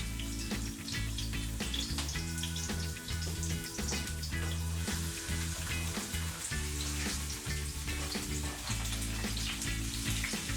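Peppers, onions and mushrooms fry in hot oil with a steady, dense sizzle that runs close and constant throughout, broken by occasional soft clinks and stirring sounds.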